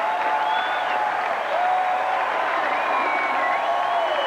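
A crowd at an indoor soccer playoff match applauds steadily throughout, a dense wash of clapping and cheering from a large arena audience, with whistles and calls threaded through it.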